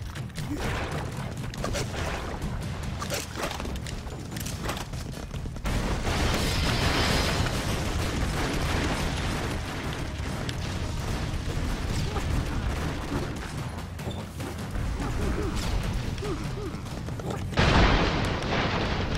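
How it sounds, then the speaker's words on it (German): Bombs exploding in the video game Broforce on PS4: a long, continuous roar of blasts and rumbling booms that swells louder partway through and ends with one sharp, heavy burst. "Dann explodiert gleich unsere Bombe."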